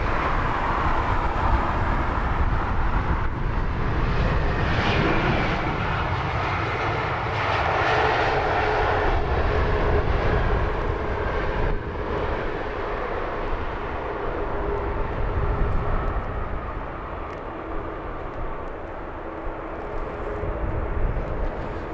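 An Etihad Airbus A380 departing London Heathrow at sunrise, a loud sustained jet engine roar that swells and slowly fades over about twenty seconds, with no talking.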